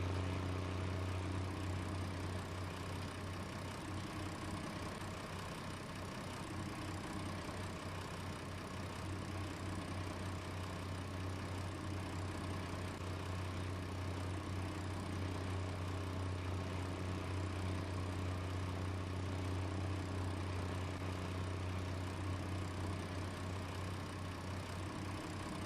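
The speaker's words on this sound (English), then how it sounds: "This is the engine sound of tractors from my youth." A tractor engine idles steadily in the Farm Sim 19 video game, a constant low droning hum with a throaty aero-engine character that holds evenly throughout, with no talking.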